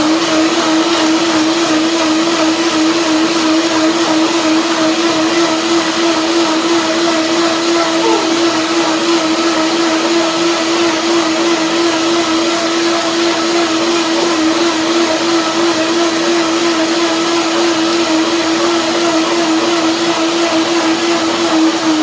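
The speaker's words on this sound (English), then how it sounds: "I taste it and blend it with a blender dance." A blender whirs steadily while blending a cashew and sesame mixture, a loud continuous motor drone with a stable pitch that runs unbroken for over twenty seconds, with no talking.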